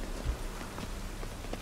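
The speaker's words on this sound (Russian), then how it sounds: "Сраный дождь, он кончится когда-нибудь, нет уже?" Rain falls in The Witcher 3: Wild Hunt, an even, soft patter of drops on the ground, with a few faint low thuds like hoofbeats beneath the steady wash.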